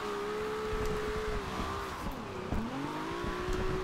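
Nissan 300ZX drift build in Forza Horizon 2 braking hard: a steady engine drone runs under a wavering tire squeal that dips sharply midway as the car slows, then climbs again.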